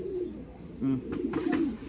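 Pigeons coo in low, rolling phrases close by, a couple of throaty bursts rising over a steady murmur of birds, with no voices present.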